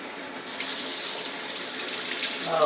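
A bathroom tap starts after a brief quiet and runs steadily during a morning teeth-brushing and rinsing routine, a close, even hiss of flowing water with a splash near the end.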